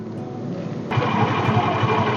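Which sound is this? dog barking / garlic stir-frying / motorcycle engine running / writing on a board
motorcycle engine running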